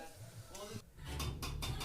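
Fried toppings for fried rice are tossed in a pan at a home kitchen, with a soft sizzle and several sharp metallic clinks of a spatula against the pan near the end, under faint chatter.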